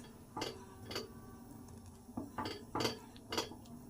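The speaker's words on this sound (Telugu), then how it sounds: "ఇలాగే సిమ్లో పెట్టుకొని పొంగు వచ్చేదాకా కలుపుకుంటూ ఉండాలి ఫ్రెండ్స్" Fruit custard stirred in a pan over a low flame, a spoon knocking and scraping against the metal in repeated clinks about every half second, close and clear with no talk.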